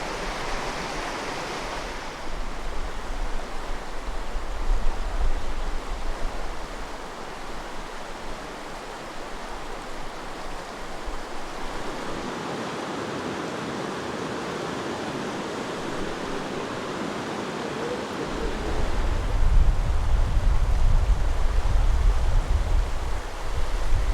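Rushing rapids on the Metolius River, heard from a packraft, make a continuous broad roar of churning water and wind, surging louder near the end with heavy low rumble.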